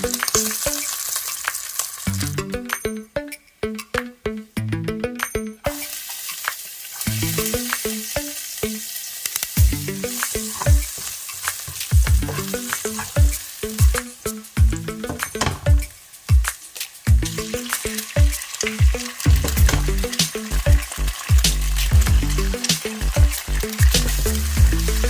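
Homemade pork belly bacon frying in a pan, a steady close crackle and sizzle with bursts of popping grease and occasional scraping stirs running throughout.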